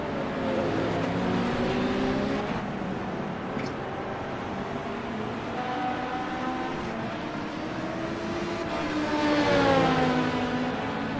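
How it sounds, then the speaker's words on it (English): An LMP2 race car leaving the pit lane in a racing video game at Hockenheim, with a continuous whining engine note rising and falling in pitch through gear changes and getting slightly louder near the end, with no talking. "And that is Adam in LMP2 just leaving pit lane."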